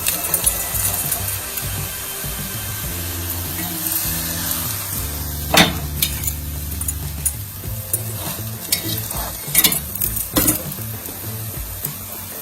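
A Kathiyawadi-style masala rotlo, a Gujarati flatbread, roasts on a hot pan with a steady low sizzle and occasional scraping or pressing sounds as it is turned and shifted, continuous and fairly loud with no talking.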